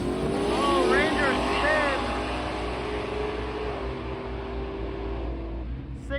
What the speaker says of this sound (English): We got some good cars rolling up right now.